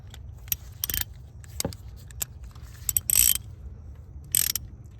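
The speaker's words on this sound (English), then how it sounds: "now I'm gonna go ahead and get my ratchet and socket and just tighten the rest" A ratchet and socket snugging down a plastic PCV valve on a car engine, giving short bursts of quick clicking spread across the span with brief pauses between, close and fairly crisp against a low background hum.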